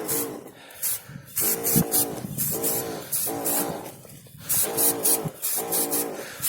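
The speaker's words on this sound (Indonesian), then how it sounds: "Makanya ini kita semprot seperlunya aja." A pesticide sprayer hissing over tomato plants in a field, bursts of spray repeating in a steady rhythm, loud and close, with a mechanical pumping sound between the sprays.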